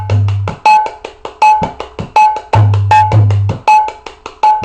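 Mridanga dayan strokes played as a continuous rhythm, crisp ringing taps with a clear pitched tone interspersed with deep booming bass strokes, close and loud.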